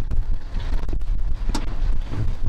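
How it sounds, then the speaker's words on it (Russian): Loud, steady rumbling wind buffets the microphone throughout, with gusty low-frequency roar and no speech. "Ветер идет очень сильный."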